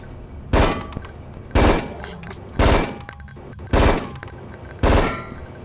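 Weapon fire at a shooting range in Hitman: Codename 47, five loud, sharp shots spaced about a second apart in a steady rhythm, each with a short ringing tail.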